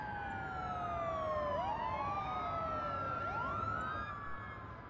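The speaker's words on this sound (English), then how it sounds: "The siren sound mode which I have actually makes it feel a lot more realistic." Emergency vehicle sirens wail in the city-building game Cities Skylines, with several overlapping tones sweeping up and down, steady and moderately loud with no talking.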